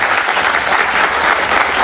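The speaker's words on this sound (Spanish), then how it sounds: "por favor, un aplauso para ella" A studio audience breaks into loud, dense applause for an arriving guest on a television interview show, a thick continuous roar of clapping with no voices over it.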